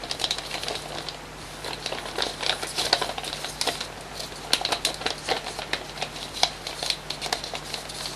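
Paper is reverse-folded by hand while an origami scorpion is shaped, producing close, irregular crinkles, taps and soft crackling creases that come in quick clusters over a low steady hum.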